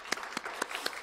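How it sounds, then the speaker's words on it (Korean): Congregation applause during a Sunday church service, four crisp, evenly spaced claps standing out over a faint, soft background of scattered clapping, with nobody speaking. "우리를 지켜주신 하나님께 영광의 박수를 올리도록 하겠습니다"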